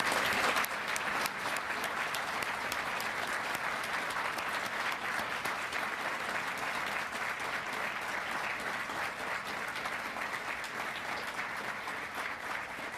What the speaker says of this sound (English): How about one more round of applause for our honorees?